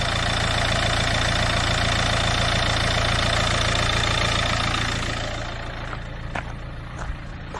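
A Nissan Juke with a blocked diesel particulate filter idles steadily and loudly close by, its engine note easing down slightly toward the end, with a few faint clicks.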